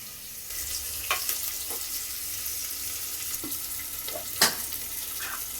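Onions frying in oil in a small 5-litre pressure cooker give off a soft continuous sizzle, and a few sharp clinks and scrapes from stirring cut through it, one of them louder near the end.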